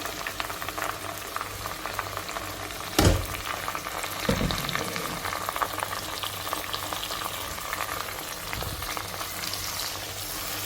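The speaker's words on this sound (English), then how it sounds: "So we're going to fry this on a low heat for it to simmer." A blended mix of onion, garlic, parsley and pepper frying on low heat for Ghanaian jollof gives a steady soft sizzle throughout, with a sharp knock near the start and a couple of duller clunks later.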